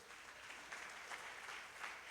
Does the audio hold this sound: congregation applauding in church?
yes